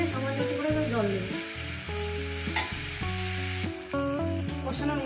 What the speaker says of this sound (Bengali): গ্যাসটা দিয়ে মিডিয়ামে আমি রান্না করি, এইভাবে কষতে থাকি মিনিমাম 20 থেকে 25 মিনিট এইভাবে কষতে থাকি।